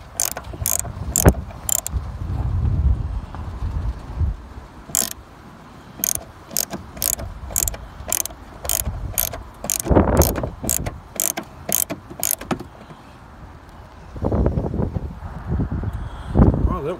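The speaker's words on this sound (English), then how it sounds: "By using that shitty made in China ratchet." Cheap made-in-China ratchet clicking close by in rapid bursts of sharp ticks, with pauses between strokes and wind gusting over the microphone underneath.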